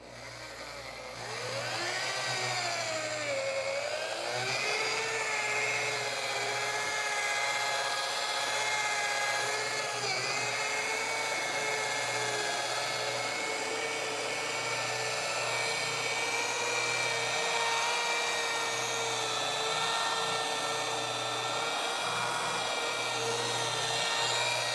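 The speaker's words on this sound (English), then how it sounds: "Crank up the polisher." A powerful rotary polisher works neglected black car paint, spinning up after a quiet start into a loud, steady machine whine that holds for the rest of the stretch with slight pitch wavers.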